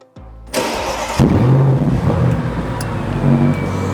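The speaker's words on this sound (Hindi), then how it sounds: "इसका एग्जॉस्ट नोट बहुत मजेदार है। ये इसका स्टार्टअप," A 2016 Audi S8 Plus fires up with a starter whir, then a sharp bark from the exhaust, settling into a loud, rumbling idle with a couple of brief revs, close by.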